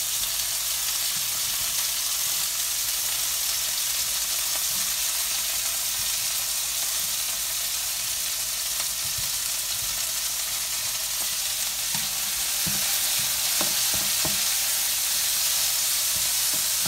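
Red and green bell peppers sauté in a hot pan alongside steak, giving a constant loud sizzle with occasional stirring clatter near the end, with no talking.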